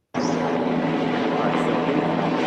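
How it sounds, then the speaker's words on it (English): A police helicopter circles overhead, its engine and rotor drone loud and steady after starting abruptly, with a constant low hum running under the roar for the whole stretch. "A police helicopter circling the area."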